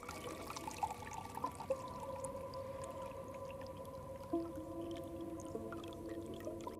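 Water pours and trickles in a scene from a psychological horror film, set against a low, eerie tonal drone with a few soft splashy accents throughout.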